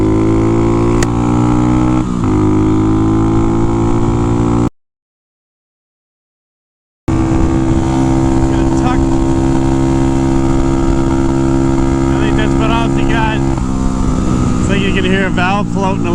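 An old Honda 175 motorcycle, about fifty years old, is ridden flat out. Its engine holds a steady, buzzing high-rev drone up close, with a brief dropout partway through.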